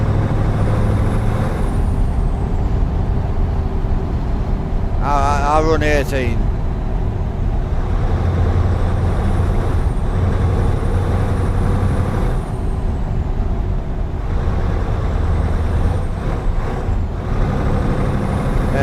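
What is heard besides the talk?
Scania V8 truck engine, stock exhaust, from video game Euro Truck Simulator 2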